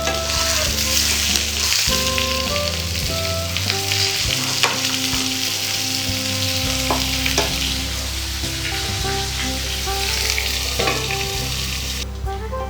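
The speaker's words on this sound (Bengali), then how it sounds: "ঢাকা দিয়ে দিয়ে ভাজলে পটলগুলো ভালো করে ভেতর থেকে সেদ্ধ হয়ে যাবে" Pointed gourd frying in a pan, a continuous sizzle with occasional stirring scrapes, steady throughout, with soft background music.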